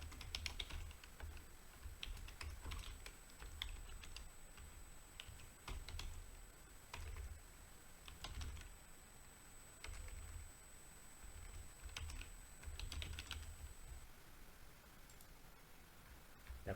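Keys tap on a computer keyboard as a save name is entered in an engine-room simulator program, quick irregular bursts of faint clicks with short pauses, close and quiet, no talk.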